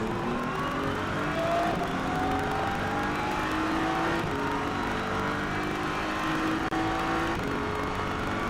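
A pack of GT race cars roars away at the start of the Nürburgring 24 Hours, engines droning and rising in pitch as they accelerate, a dense continuous wall of sound at moderate distance.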